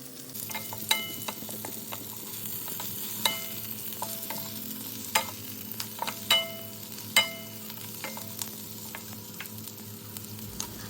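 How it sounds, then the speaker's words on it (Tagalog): Chicken meatballs sauté in a pan with garlic and onion, giving a steady close sizzle punctuated by sharp clicks and clatters of a spatula stirring against the pan. "ilagay na natin yung bawang at sibuyas. Igisa lang natin hanggang mag-brown siya."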